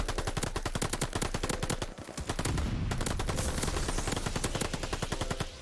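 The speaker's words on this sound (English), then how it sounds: "I'm shooting at random stuff in this game" MP40 submachine gun fire in Call of Duty Vanguard, loud rapid automatic bursts with a steady rattling rhythm, a short pause near the middle, then more sustained firing.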